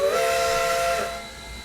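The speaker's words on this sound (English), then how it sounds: "And here is the whistle." Steam locomotive whistle of East Broad Top No. 15 in the Trainz 2019 simulator, a single loud, chordal hoot with breathy hiss, held for about a second before cutting off and fading.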